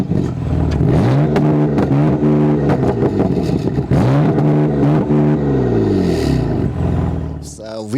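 A 2014 BMW M4 Coupe (F82) with a four-pipe exhaust revs hard and loud, its engine note sweeping up and down through several throttle blips before a sharp drop at the end.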